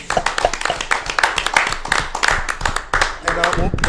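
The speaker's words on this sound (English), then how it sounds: "Clap for the host." Repeated bursts of hand clapping from a small group applauding the host, dense and close, with voices and cheering mixed in throughout.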